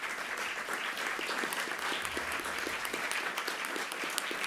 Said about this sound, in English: please give all of our speakers a great round of applause